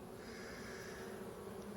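Bees in a swarm box with a tight entrance screen and a small gap give a steady, continuous drone close by, low and even throughout, with no voices.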